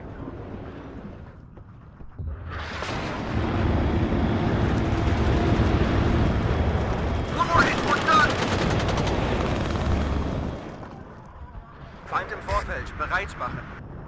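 Sustained loud roar of an A-10 Thunderbolt air strike in the WARNO wargame, with rapid cannon fire and blasts building for several seconds, then fading into scattered crackling impacts.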